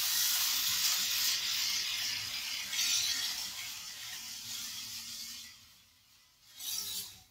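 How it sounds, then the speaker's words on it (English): An old electric sweater shaver gives a hissing, whirring buzz as it removes pills from a knitted sweater, close up, fading midway and then surging again near the end, with no voices. "Using a sweater shaver is really nice for removing those pills."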